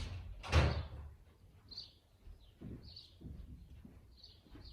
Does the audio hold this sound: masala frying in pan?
no